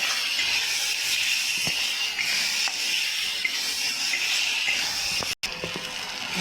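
Spice masala of chilli and turmeric powders is stirred in a hot pan, making a steady loud sizzle and hiss with occasional scraping clicks throughout, briefly cut by a short dropout near the end.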